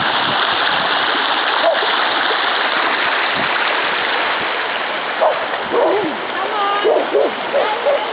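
Flood water rushes steadily down a road that has turned into a creek, a continuous close splashing flow, with a few brief voices or dog-like yelps breaking in near the end.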